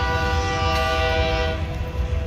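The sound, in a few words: Union Pacific Big Boy 4014 steam locomotive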